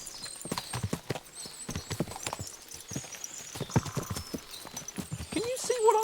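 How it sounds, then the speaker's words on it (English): Many horses clip-clop in Kingdom Come: Deliverance II, a busy, overlapping patter of hooves on hard ground with soft game ambience and a brief tonal sound near the end. "What a lot of horses!"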